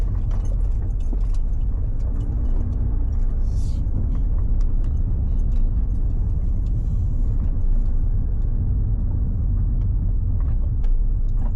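Cars roll past in a downtown Vancouver back alley, a steady low rumble of traffic with engines passing close and a few light metallic clinks, no talk.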